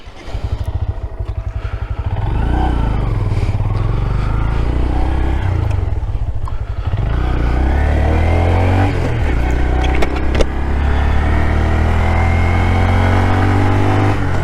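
A 2025 Honda Grom motorcycle being ridden, its small engine droning loudly with rising and falling revs and gear changes, close to the microphone amid wind rumble, no talking.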